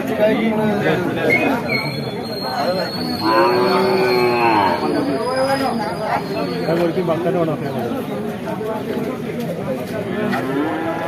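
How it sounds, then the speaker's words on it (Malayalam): Buffalo calves moo and bellow repeatedly at a busy livestock market in Kollannur, Kerala, the calls rising over constant crowd chatter and people talking nearby. "ആ രണ്ട് പോത്ത് കുട്ടികളെ കച്ചവടം കഴിഞ്ഞ്"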